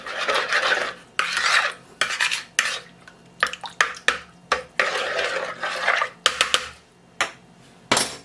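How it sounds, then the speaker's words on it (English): Yeast is stirred into a mixture for hot cross buns, with a spoon scraping and clinking around a bowl in quick bursts separated by brief pauses, close and fairly clear. "Give it a stir."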